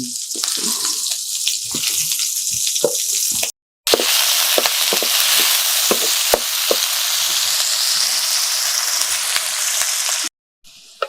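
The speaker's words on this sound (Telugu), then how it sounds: "ఇప్పుడు ఉల్లిపాయ పచ్చిమిర్చి బాగా వేగింది." Chopped onion and green chillies frying in a pan give a loud, continuous sizzle broken by brief gaps, with scattered clicks of stirring throughout.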